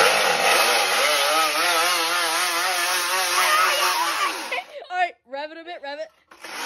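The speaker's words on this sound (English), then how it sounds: "Rev it a bit, rev it." A small outboard-style motor revs loudly and steadily for several seconds with a high buzzing whine, then cuts out as people talk in short bursts nearby.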